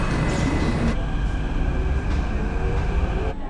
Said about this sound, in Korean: 방금 한 대 떠났는데 1분 있다 또 오네요.